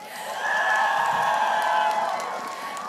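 Crowd cheering and whooping at an MPL PH Season 14 esports playoff match, a sustained roar from a large audience swelling and holding steady, with a few voices rising above it.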